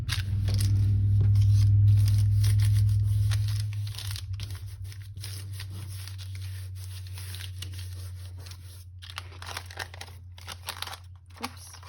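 Scissors trimming around brown paper ephemera for a daisy-themed junk journal, giving soft crinkling and snipping textures close by, preceded by a steady low machine hum that fades after a few seconds.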